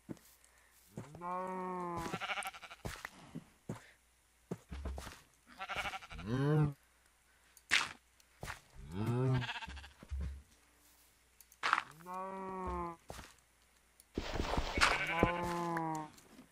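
Sheep in the Minecraft video game bleat in short, nasal cries, several separate calls spaced across the stretch, clear and fairly close with quiet gaps between them.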